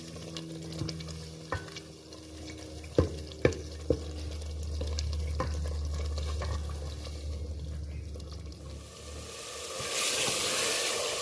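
Minced meat with spices frying in a pan, a continuous sizzle with a few sharp clinks of a spoon against the pan and a brief watery hiss near the end.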